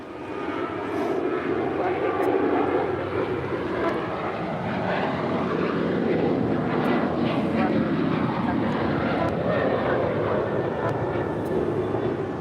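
An airliner takes off from runway 25 right at LAX, a steady broad engine roar heard from a distance throughout, with faint voices from the airport scene underneath.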